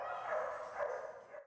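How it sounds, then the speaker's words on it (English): Dogs at a crowded animal shelter bark and yip continuously, the kennel noise loud and close throughout with a brief drop at the very end. "they can hear the dogs barking right here"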